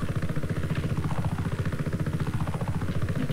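Helicopter in the Just Cause 3 video game, a steady loud rotor chop with an engine whine that rises and falls in slow swells, continuous and alone.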